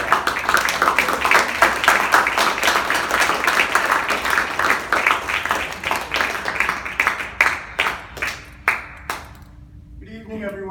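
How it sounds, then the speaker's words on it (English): A poetry open mike audience at the Williams Center applauds the poet David Zellig with dense steady clapping that thins into a few slower individual claps and fades toward the end. "Let's give a big round of applause"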